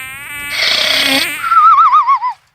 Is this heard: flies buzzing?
yes